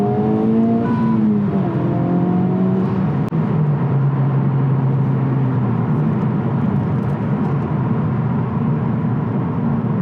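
A Honda Civic Type R FL5 pulls hard in second gear, heard from inside the cabin. The engine drone climbs steadily in pitch, loud and continuous for the whole stretch, with no talking.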